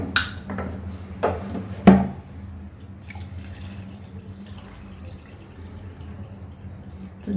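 Tap water splashes into a container for making tamarind water for pani puri: a few sharp splashes and drips up close at first, then a quieter, fainter trickle.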